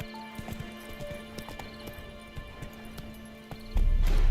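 Roach, Geralt's horse in the video game The Witcher 3, gallops with quick, evenly spaced hoofbeats over game music and ambience, ending in a louder, low rush that could be a neigh or a stop.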